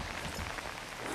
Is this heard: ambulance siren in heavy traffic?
no